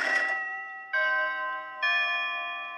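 Three bright, sustained bell-like chimes from a video game, each struck about a second apart and ringing on with clear tones, loud and close with no talk over them.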